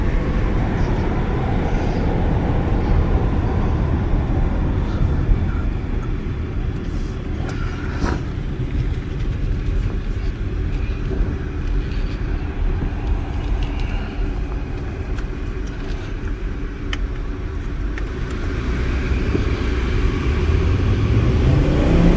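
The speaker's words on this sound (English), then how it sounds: "I like the sound of that 5-cylinder." A 2013 VW Passat SE 2.5 five-cylinder engine humming from inside the cabin on a test drive, a steady loud drone with road noise throughout.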